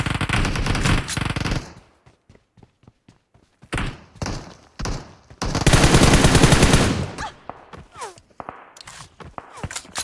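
Video game gunfire comes in rapid automatic bursts and scattered single shots, with thumps and footsteps between them.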